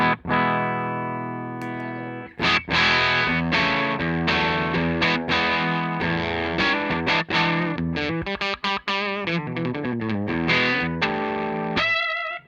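Electric guitar, a Strat tone, played clean with the Fulltone Fatboost pedal switched off. Loud, close chords and busy riffs run continuously after a quieter opening phrase, with no talking.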